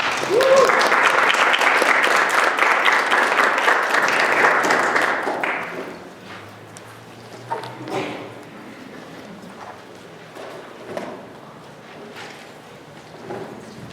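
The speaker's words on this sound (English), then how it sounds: "Please give these two a big round of applause." Audience applause for two speakers at a community health equity survey results presentation in Alamosa, a dense wash of clapping for about five seconds that fades out, followed by quieter room noise and faint voices.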